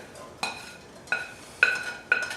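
Small potatoes dropped into a little pan in four separate clattering bursts, each a bright metallic clink with a short ringing tail, evenly spaced and close up.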